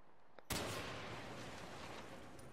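A single sniper rifle shot in Far Cry 4 cracks out sharply, then trails into a long rolling echo across mountain terrain, with no voices.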